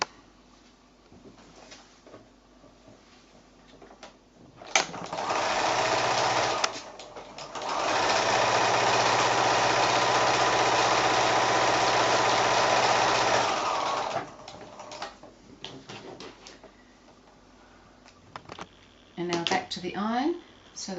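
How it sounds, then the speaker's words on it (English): A sewing machine stitches quilt fabric for a square quilting block, a steady rapid mechanical whir lasting about nine seconds with a short pause, bracketed by quiet handling and someone speaking. "back to the sewing machine"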